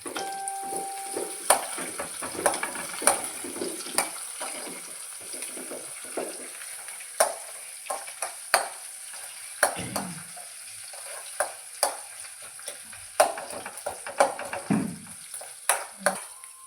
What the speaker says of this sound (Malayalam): നമുക്കിതൊന്ന് നന്നായിട്ട് വഴറ്റിയെടുക്കാം.